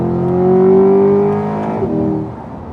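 A 2021 Chevrolet Corvette Z51 convertible with an 8-speed dual-clutch automatic revs loudly and steadily climbs in pitch, then snaps through a quick gear shift and settles into a lower, sustained engine drone.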